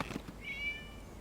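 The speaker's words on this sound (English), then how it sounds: "It was just a cat." A cat in Genshin Impact gives one short, faint meow over quiet background, alone with no talk.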